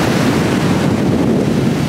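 Strong wind buffets the microphone at the seashore, a continuous loud rushing roar mixed with the wash of waves, with no talking.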